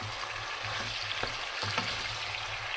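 Mushrooms and vegetables stir-frying in a pan while preparing a mushroom dish, a steady close sizzle with a few soft scrapes of stirring and no voices.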